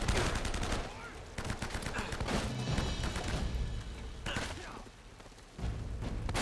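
Repeated gunfire in the PS3 video game Uncharted: Drake's Fortune, with dense bursts of shots and clattering impacts filling most of the stretch, fading briefly near the end before another burst.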